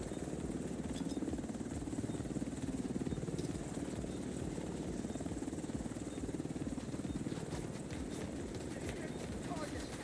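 A video game helicopter departs from a dark zone, its steady rotor drone filling the background at moderate level while a voice talks over it.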